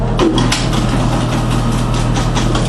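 A 300 RPM floor buffer machine running, a steady loud motor drone with a low hum and faint rhythmic knocking, close and continuous.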